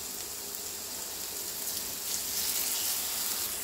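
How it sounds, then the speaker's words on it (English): Shrimp sizzling in an oiled skillet, a bright, steady hiss and crackle close by that swells slightly midway, continuous with no talking. "now we're just going to add our shrimp to our skillet here"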